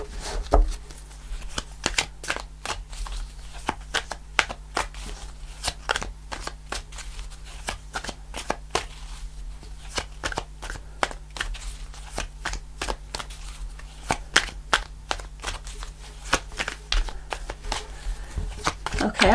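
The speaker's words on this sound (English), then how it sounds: "I'll do a couple more shuffles." Tarot cards are shuffled by hand in a long run of rapid, crisp riffling bursts, close and continuous, with faint talk underneath.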